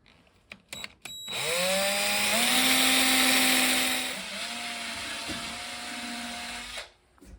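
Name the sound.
power drill boring holes in an antler button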